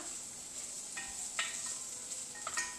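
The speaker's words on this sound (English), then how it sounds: "Frying up the prosciutto." Soft, steady sizzling of prosciutto frying in a pan, with a few light clinks and stirs close by.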